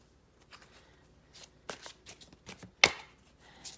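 Soft, intermittent riffling and snapping of a card deck being shuffled close by, with a sharper crisp flick near the end and no speech.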